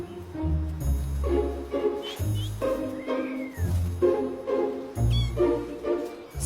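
Several short, high cat meows come and go over low rumbling background noise, close and fairly clear.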